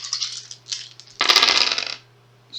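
A handful of peril dice are rolled in a Shadows of Brimstone board game session, giving one short, close rattling clatter, with soft handling noises around it.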